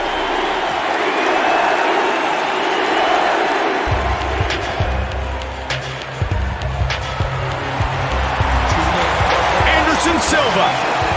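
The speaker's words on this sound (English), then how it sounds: "listen to the crowd. They love this guy." Loud roaring crowd cheers filling an arena in the video game UFC Undisputed 3, with a commentator talking over it and sharp thuds and slaps scattered throughout.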